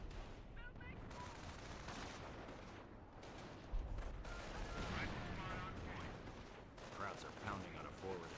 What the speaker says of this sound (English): They're hitting one of our forward emplacements